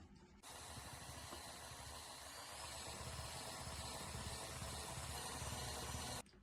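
An electric mixer whips softened butter until it turns pale for shortbread-style dough for curd cheese pastries, a steady whirring drone running unbroken for about six seconds, close and fairly loud, with no talk.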